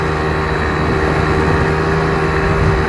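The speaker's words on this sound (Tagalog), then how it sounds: "Medyo maingay yung motor." An ATV engine runs in the Kuwaiti desert, giving a steady, loud mechanical drone with a constant low hum throughout and no voices.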